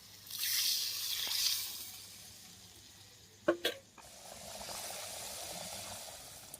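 Water poured into a pan of cooking fish curry, a hissing rush and bubbling sizzle near the mic, a couple of sharp clinks midway, then a softer steady simmer.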